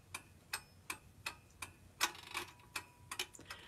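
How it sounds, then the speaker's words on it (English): A clock ticks steadily on its own, about two or three sharp clicks a second, each tick clear and close with quiet gaps between. "the ticking of the clock,"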